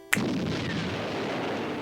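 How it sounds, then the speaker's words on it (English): An Explosion attack in Pokémon Yellow bursts with a sharp, loud blast followed by a long rumbling, hissing decay that fills the rest of the moment. "what you aren't foreseeing is this explosion!"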